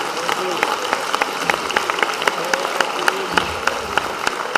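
Audience applause for visiting guests at a folk song and dance concert in Skopje, steady clapping from a hall crowd with sharp individual claps standing out, a voice briefly heard under it.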